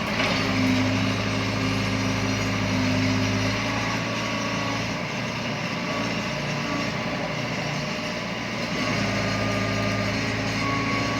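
A small toy JCB digger's motor runs steadily and loudly throughout, a continuous high buzzing whine with little variation.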